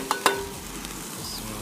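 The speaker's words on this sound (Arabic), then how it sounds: "نحط البصل الآن." Onions dropped into a hot frying pan while cooking: two quick clattering hits, then a soft, steady sizzle, with no talking.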